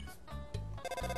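Cell phone ringing in the video game Undertale: a loud, close electronic ringtone in short repeating bursts with brief gaps between them.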